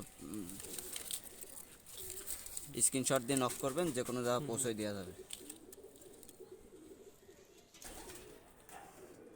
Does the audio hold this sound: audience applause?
no